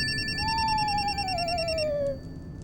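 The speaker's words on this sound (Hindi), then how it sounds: "एक मिनट, फोन मेरा बज रहा है" A mobile phone rings with a rapid electronic warbling ringtone that repeats steadily for nearly two seconds and then cuts off, while a long gliding tone drifts downward over it.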